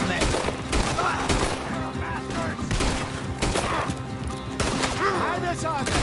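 Rapid gunfire in a Red Dead Redemption 2 shootout, dense overlapping shots and cracks sounding throughout, loud and close, with voices shouting over the firefight.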